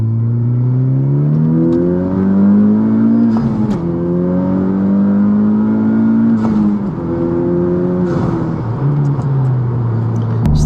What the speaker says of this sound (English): I haven't done a second gear pull figure in a while